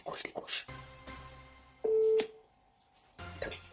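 Outgoing telephone call ringing back with a steady tone, clear and fairly loud for about half a second, framed by talk before and after.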